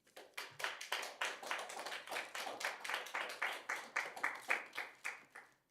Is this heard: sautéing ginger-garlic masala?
no